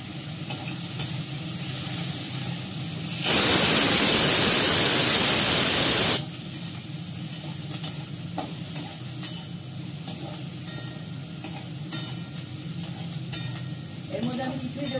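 Spices and turmeric hit hot oil in a pan with a loud, hissing sizzle lasting about three seconds, followed by softer frying and stirring scrapes.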